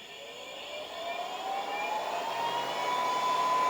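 A Kaleido coffee roaster's exhaust air fan makes a steady whooshing roar that builds gradually in loudness, with a faint rising whine layered on top, running continuously without pauses.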